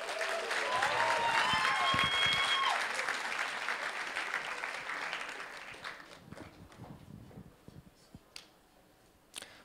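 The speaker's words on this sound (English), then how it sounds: "So please join me in applauding our leaders for the class of 2022." Audience applause at an HEC Paris MBA class of 2022 event, loud and steady for about three seconds, then thinning into scattered claps and faint murmurs.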